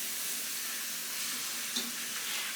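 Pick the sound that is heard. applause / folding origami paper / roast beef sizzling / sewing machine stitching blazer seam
roast beef sizzling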